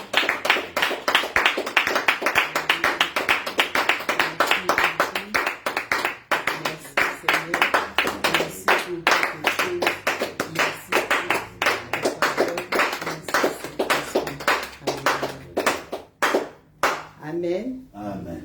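A church congregation claps together in acclamation, a steady, rhythmic run of hand claps with voices speaking and singing underneath, loosening and tapering near the end.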